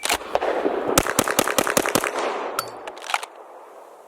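Rapid volley of gunshots at a shooting range where skeet shooters are nearby, about a dozen loud sharp cracks fired in quick succession over two and a half seconds, then a few trailing shots and fading echo.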